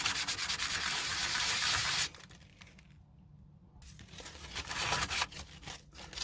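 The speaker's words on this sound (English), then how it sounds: "So in a circular motion, just rub it, just keep rubbing it about wherever you've done that plastic welding." Sandpaper rubs in a circular motion over a plastic-welded airsoft rifle or pistol part, a dense close scratchy rasping that pauses briefly midway and then resumes in uneven strokes.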